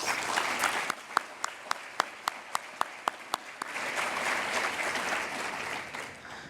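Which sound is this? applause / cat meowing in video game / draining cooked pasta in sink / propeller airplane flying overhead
applause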